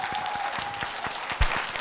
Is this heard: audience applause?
yes